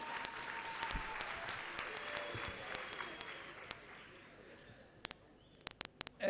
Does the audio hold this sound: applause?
yes